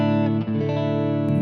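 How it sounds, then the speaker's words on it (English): Electric guitar played through a Kemper Profiler with delay and a shimmer reverb, sustained distorted chord tones ringing continuously with a short dip midway, loud and alone. "I have the delay, and I have this cirrus reverb because I like it, because he has this little bit of shimmer option on top"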